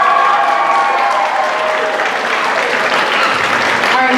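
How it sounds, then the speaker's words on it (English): Audience at a high school spring choir concert giving loud, sustained applause that fills the hall, with a few crowd voices beneath. "Can we give them a round of applause"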